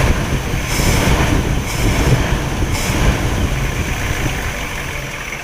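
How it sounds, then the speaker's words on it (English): A 1959 Chevrolet Bel Air's 348 V8 engine runs with a rough, steady rumble, and a high-pitched belt squeal cuts in a few times in brief bursts as it revs. "It squeals the belt when I really juice the motor."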